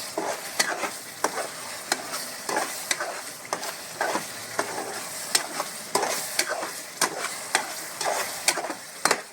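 Chicken curry with fresh coriander stirred in a pan, a soft continuous sizzle broken by regular spoon scrapes and knocks against the pot, close and steady throughout.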